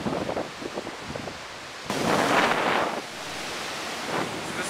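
Surf breaking at a beach in Perth, Western Australia, heard alone: a loud wash of waves swells sharply, holds for about a second, then eases into a steady roar with wind buffeting the microphone.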